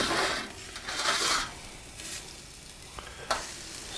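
Wagyu filets sear on an SNS travel kettle grill after a flip, giving a steady close sizzle with brief louder surges and a few light metallic clicks.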